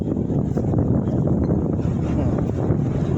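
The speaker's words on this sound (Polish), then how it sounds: "No proszę, akurat teraz taki fajny podmuch." A strong gust roars over a sailboat during a squall: steady, loud, rushing wind buffeting the microphone throughout, with water and hull noise mixed underneath.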